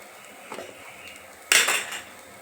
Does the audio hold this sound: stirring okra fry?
yes